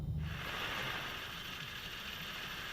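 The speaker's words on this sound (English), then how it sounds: "The rescue specialist is winched down from the helicopter." A Swiss Air Zermatt rescue helicopter's winch lowers a rescuer on the Matterhorn, giving off a steady mechanical whir with a gear-like ratcheting texture that starts with a brief low thump and then runs evenly.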